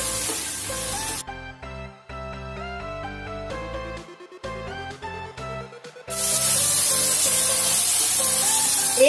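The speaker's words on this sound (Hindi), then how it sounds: "अब इसमें डालेंगे टमाटर का पिसा हुआ पेस्ट। सभी को अच्छी तरह मिला देना है और 1 मिनट इसे फ्राई करना है" Tomato paste masala for kabuli chana chola sizzles loudly in a hot pan, with a bright hiss at the start and again at the end around a short melodic musical passage.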